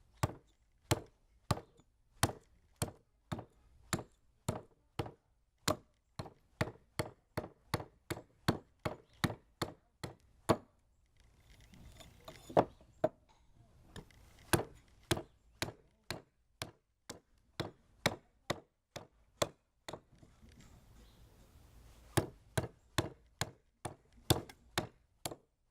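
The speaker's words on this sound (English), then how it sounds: "now that I got that split, I'm going to try this little homemade axe." A small homemade hand-forged axe splitting wood in a long run of sharp, evenly spaced chopping strikes, close and loud, with a short pause partway through and then steady chopping again.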